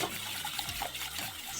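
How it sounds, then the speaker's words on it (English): A cup of boiling water pours into a baking mixture for a Mississippi mud pie, a steady soft gushing splash heard close and alone for under two seconds. "we're gonna put a cup of boiling water in here"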